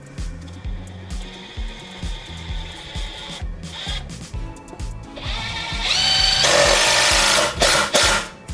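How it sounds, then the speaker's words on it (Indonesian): Bosch GDX 18V-200 cordless impact wrench driving 4 cm screws into hardwood: rapid rhythmic hammering pulses repeating, then a brief pause and a louder, denser burst of impacts near the end, with no talking. "Kita akan coba lagi penyekrupan untuk skrup-skrup yang 4 cm dulu."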